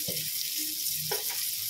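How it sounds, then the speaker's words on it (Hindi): Vegetables such as carrot frying in a pot for a one-pot veg tehri rice dish, giving a steady, close, continuous sizzle with faint stirring, no voices. "अब इसे 2-3 मिनट भून लेते हैं।"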